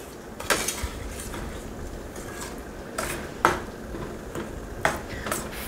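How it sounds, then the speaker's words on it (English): Homemade BBQ sauce stirred in a pot with a utensil, a few distinct metallic clinks and scrapes against the pot over a low steady background. "Bring the sauce to a boil and stir it all together."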